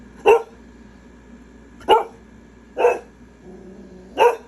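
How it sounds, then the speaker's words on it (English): A dog barks four times, single sharp barks spaced a second or more apart over a quiet background hum. "barking at the freaking air"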